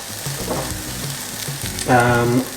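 Beef browning in a hot pan for a Mexican beef casserole, with a loud, steady close-up sizzle and a few clattering stirs, and no voices.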